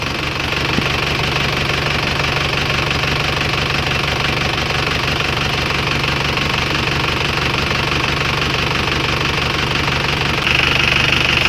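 An Isuzu Crosswind's engine idles steadily and loudly close by after an oil change, with a constant low rumble and a rhythmic mechanical ticking, and no voices.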